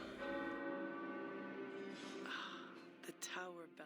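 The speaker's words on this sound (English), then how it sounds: "The tower bells are ringing." Tower bells ring in Marvel's Midnight Suns, a sustained metallic chime with long ringing tones that fade, under a speaking voice with in-game sounds near the end.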